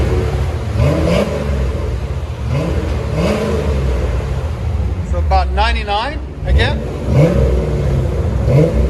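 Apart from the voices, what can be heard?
stock 1990 Chevy Corvette C4 5.7L engine revving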